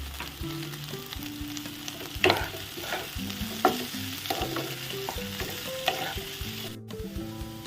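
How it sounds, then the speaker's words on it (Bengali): Grated ginger is stir-fried over a lowered flame with onion and potato in a pan for a potato and beetroot sabji, giving a steady close sizzle broken by repeated stirring scrapes. "আদাটাকে দিয়ে একটু ভাজবো।"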